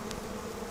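Honeybees humming during a brood inspection of an opened hive, a steady close drone with a brief higher flicker near the start.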